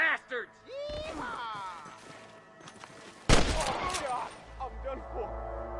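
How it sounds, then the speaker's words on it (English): Gunfire in the Western video game Red Dead Redemption, with bursts and sharp cracks, the loudest volley near the middle, mixed among shouting voices and game sounds. "I can hear more gunshots."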